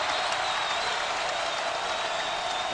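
A college basketball crowd at a Pitt versus West Virginia game roars after a three-pointer, a dense, loud, unbroken wall of cheering and applause filling the arena.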